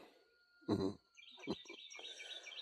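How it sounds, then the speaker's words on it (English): Birds chirp faintly in the quiet of an early Saturday morning, with a brief low owl-like call and a thin high trill continuing in the background. "Saturday morning. Birds chirping."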